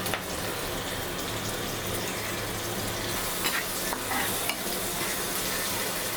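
Okra and potato sizzle steadily in a frying pan while a utensil scrapes and stirs them, a close, continuous fry with occasional clinks and no talking.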